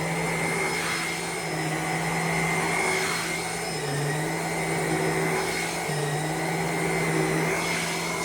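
An Uwant mattress vacuum with mite removal and infrared heat runs continuously close by, a steady whirring motor drone with a slight dip in pitch midway.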